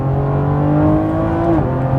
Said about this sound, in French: Ce son, cette mélodie même je dirais, eh bien c'est tout simplement celle d'un V12